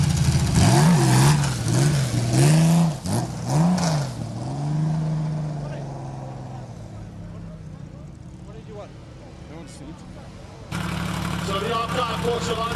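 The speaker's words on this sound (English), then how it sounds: "we'll let Porsche's finest, Flat 6, do the talking as Craig Wessels takes us off to the start" A Porsche flat-six race car at the start of a classic car race sprint, loud and close, revving hard through several rising gear pulls, then fading into the distance before another engine roars up nearby.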